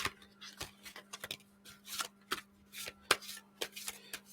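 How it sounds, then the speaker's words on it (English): Playing cards shuffled by hand, a close, quiet run of crisp riffles and slaps coming in uneven bursts over a faint steady hum. "I'll do one more good shuffle."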